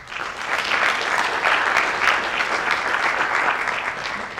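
Audience applause for a school principal at a signing day ceremony, a full, continuous crowd clapping at steady volume with no clear talk over it.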